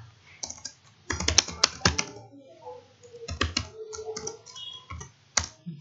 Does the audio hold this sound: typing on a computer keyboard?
yes